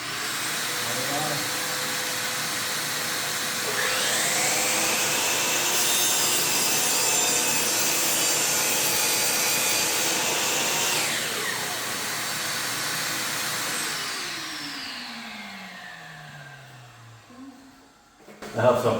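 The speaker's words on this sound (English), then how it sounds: "to cut the dust down, I hook up my shop vac to the other end of the saw" A saw cuts baseboard trim while a shop vac hooked to the saw's dust port pulls away the dust. The combined roar of blade and vacuum holds steady and loud for about fourteen seconds, then winds down as the saw spins to a stop.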